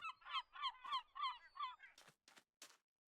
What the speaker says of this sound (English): I just heard a bird. Oh, yeah, a little seagull.